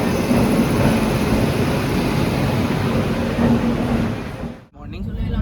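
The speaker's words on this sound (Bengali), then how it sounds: "এসে গেছে আমাদের ট্রেন খড়গপুর জাংশনে, গোরখপুরে।" A train pulls into Kharagpur Junction, filling the station with a loud, continuous, broad rumble that dips sharply near the end before resuming, with people's voices mixed into the din.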